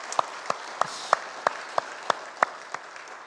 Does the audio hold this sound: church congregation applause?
yes